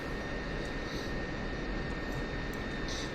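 An F-16 taxiing in the DCS World flight simulator gives a steady, loud jet engine roar with broadband rumble and a constant high whine, unbroken and alone for the whole stretch.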